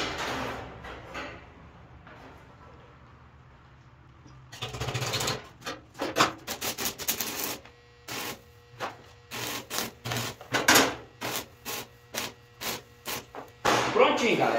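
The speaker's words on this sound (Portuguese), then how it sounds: "Deixa eu dar um pininho de solda aqui." Arc welding a quick tack on an iron plant stand: after a few quiet seconds, a run of sharp crackling bursts and short hissing spurts starts, loud and close, with brief gaps between them.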